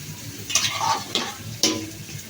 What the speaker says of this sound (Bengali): এখন একটুখানি পানি দিয়ে আমি তরকারিটা কষায় নিব।